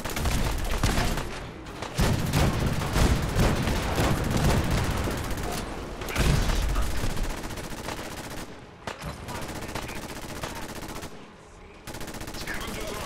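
Cannon fire in Fallout 4, a sustained barrage of loud booming blasts and crackling gunfire, with brief pauses between volleys.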